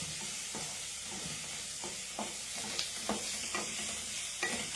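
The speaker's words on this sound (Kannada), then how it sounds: "ಆನಿಯನ್ ಕೂಡ ಒಂಚೂರು ಗ್ರೈಂಡ್ ಆಗಲಿ, ಫ್ರೈ ಆಗಲಿ, ಮೀಡಿಯಂ ಫ್ರೈ." Chopped onions sizzle over a medium flame in a pan while a utensil stirs them in irregular scraping strokes; the frying hiss stays steady and close, and no one speaks.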